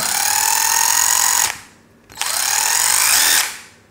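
Mollar CIDR12 12-volt cordless impact driver running freely in two bursts of steady high-pitched whine, each about one and a half seconds, stopping sharply between them, loud and close with no talking.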